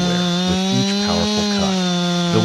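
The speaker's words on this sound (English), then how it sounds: "holding tightly onto a roaring chainsaw" A big chainsaw roars while cutting into a tree trunk, the engine note steady and loud, wavering slightly with the load throughout.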